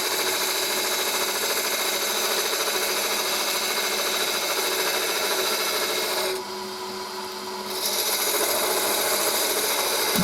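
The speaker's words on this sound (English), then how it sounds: "gone on to a 1/2 inch gouge there, a bit more controllable" A 1/2 inch gouge cutting spalted hazel on a wood lathe makes a steady, loud rasping hiss over the spinning workpiece, broken briefly by a short softer lull about two-thirds through before the cutting resumes.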